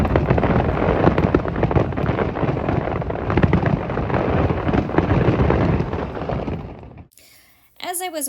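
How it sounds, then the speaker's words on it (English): Fireworks at a night market burst in a dense, loud, continuous barrage of booms and crackles for about seven seconds, then cut off abruptly. "the fireworks had started, very, very loud, but very pretty"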